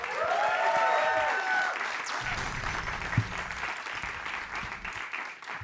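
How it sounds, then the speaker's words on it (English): Audience applause at a comedy roast, a dense burst of clapping that is loud at first and then thins and fades over several seconds, with cheering rising briefly at the start. "Let's have another round of applause for my friend,"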